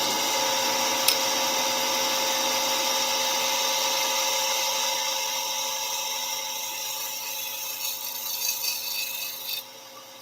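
Wood spinning on a lathe while a gouge cuts shavings, a steady continuous scraping hiss with a constant motor hum and a faint tick near the start, with no one talking.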